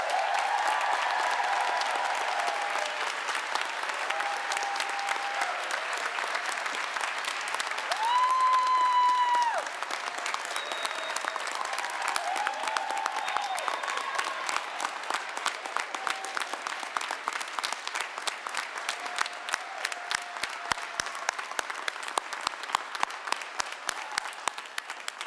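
Sustained applause from a commencement audience for graduating physician assistant students, a steady dense clatter of many hands that carries on for the whole stretch, with a brief tone sounding partway through.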